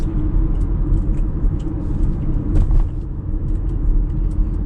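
A 2021 Acura RDX cruising through town at night on Pensacola Street, its steady low road rumble and tire noise droning continuously from inside the cabin, with a few faint light clicks and rattles over the top.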